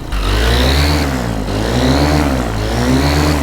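A paramotor engine warms up on the ground, stuttering slightly while cold, then revving loudly in a close, steady drone that swells and dips in pitch as the throttle rises and eases.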